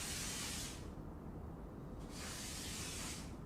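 Spray gun forcing paint through a nozzle tip, a steady loud hiss in two bursts with a short pause between, no voices.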